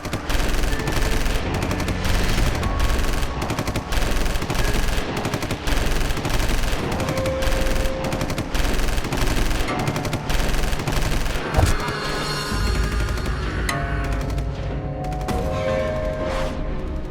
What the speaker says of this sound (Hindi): बहुत बरसाली गोलियां।